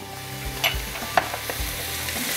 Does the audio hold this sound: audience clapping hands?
no